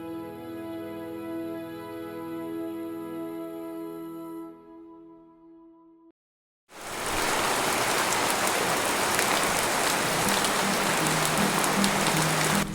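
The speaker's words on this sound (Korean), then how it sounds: "봄비가 내립니다." Spring rain falls steadily as a loud, dense hiss close by, starting abruptly after a stretch of tonal music and continuing without a break.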